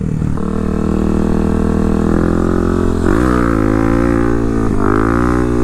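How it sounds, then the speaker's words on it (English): Kawasaki KLX300 supermoto motorcycle with an aftermarket exhaust revving hard on a gravel road for a wheelie, a loud steady engine drone near the listener that rises sharply in pitch partway through, with no talking. "I'm gonna try a wheelie."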